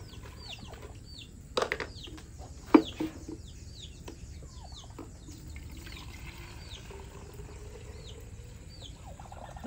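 Young chicks on a farm peep in short, repeated high chirps from close by, with a couple of brief flaps or thumps and a steady low background rumble; no voices.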